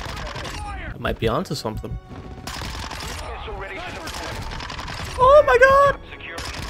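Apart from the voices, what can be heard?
gunfire in video game Modern Warfare 2 ground war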